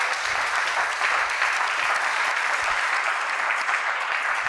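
A church congregation applauds to acclaim the Lord, steady dense clapping from many hands throughout, loud and continuous with a few voices faintly mixed in.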